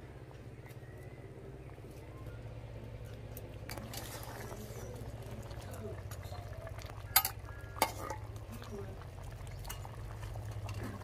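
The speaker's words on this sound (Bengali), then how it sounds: "দিয়ে দিচ্ছি মাছ।" Fish slid into a pot of simmering curry in a Bengali village kitchen: a low bubbling simmer throughout, a few clinks and a brief plop and splash midway, with someone talking quietly over it.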